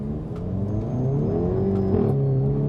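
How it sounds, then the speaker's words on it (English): A 2021 Hyundai i30 N with DCT gearbox revs steadily and loud with a throaty exhaust, its pitch dropping as it shifts down. "you can hear it shifting down, David."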